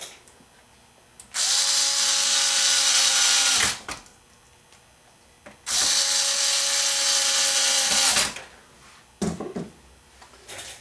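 A power screwdriver backs screws out of a Denon AVR2307 receiver being repaired: two sustained, close whirring bursts of a few seconds each, separated by a pause, then a few short clicks and knocks at the end, with no talk.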